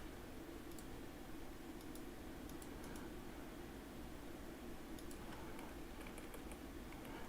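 Faint, sparse keystrokes on a computer keyboard come in small bursts of quick clicks over a constant hiss of background noise, with no one talking.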